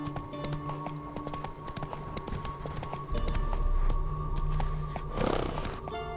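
Horse hooves clip-clop at a steady gallop in The Witcher 3 on PS4, rhythmic and fairly close over continuous game ambience and music, with a brief snort or whinny near the end.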